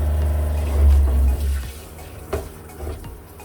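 A campervan water pump in an Iveco Daily self-build conversion hums loudly as water runs to the tap, then eases off with a few clunks and gurgles as flow settles.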